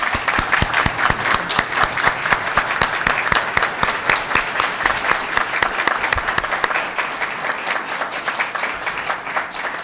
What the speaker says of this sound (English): Let's give them now a good hearty round of applause